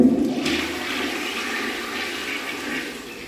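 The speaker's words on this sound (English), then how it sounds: "So I will flush once again." A VitrA ceramic toilet flushes with a strong rushing surge of water that settles into a steady refilling hiss, close and loud with no talking.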